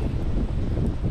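Strong, cold wind buffeting the microphone on the rocky seaside at Shek O, Hong Kong, a steady low rumbling roar with gusty swells throughout a short stretch.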